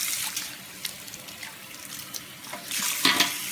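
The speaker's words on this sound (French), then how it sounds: "On va voir bien rincer." Tap water runs steadily into a salon sink while bleached hair is rinsed. The hiss is loud and continuous, with splashy bursts as the flow shifts and a stronger gush toward the end.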